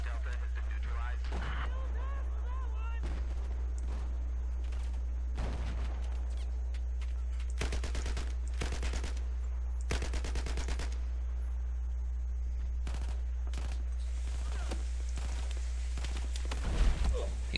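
Incoming gunfire and explosions in the video game Battlefield 4, loud bursts and sharp cracks arriving in irregular clusters over a steady low rumble.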